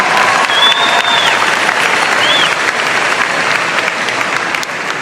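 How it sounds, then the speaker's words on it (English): Sustained audience applause for the graduating class of 2026 at a ceremony, a loud, dense wash of clapping from a large crowd, with a couple of brief whistles near the start. "Let's give them a better round of applause for that."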